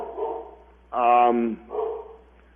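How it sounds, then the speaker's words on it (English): A dog barks indoors in a room during a radio interview, giving two or three loud, close yaps in quick succession, with faint talk nearby. "the dog seems to be excited you're on the radio"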